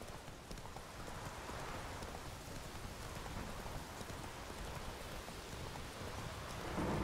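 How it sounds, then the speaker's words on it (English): Steady rain pours down in The Witcher 3 game world, a dense even hiss mixed with hoofbeats from the horse Roach clopping along underneath, with no talk. "It's raining."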